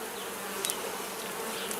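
Honey bees buzz in a dense, continuous hum during a routine hive inspection with a brood frame lifted out, with a few individual bees droning briefly closer by.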